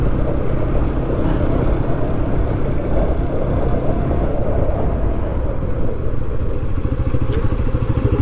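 Motorcycle on a road near Mukundanagar ghat, a loud, close, steady engine drone with a fast throbbing pulse that holds throughout, with no talk over it.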